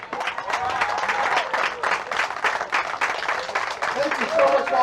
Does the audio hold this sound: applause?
yes